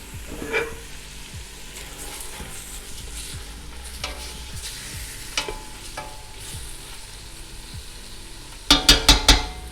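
Meat, onions and bacon browning in a pan give off a steady, loud sizzle with occasional stirring scrapes, ending in a quick series of sharp metallic clanks.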